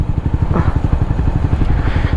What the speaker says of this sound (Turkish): Ha, egzoz güzel aslında benim çok bağırmıyor da.